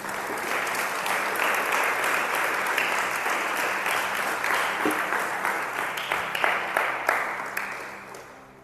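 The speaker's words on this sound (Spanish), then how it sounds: "Aplauda a Dios en esta mañana." A church congregation applauds during a morning service, sustained and fairly loud clapping that carries on steadily before tapering off at the end.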